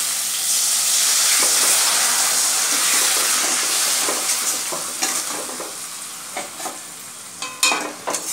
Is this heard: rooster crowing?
no